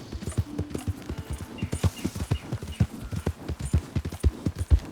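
Horse hooves pounding in a fast, regular gallop while riding on horseback in Red Dead Redemption 2, loud and close throughout with no speech.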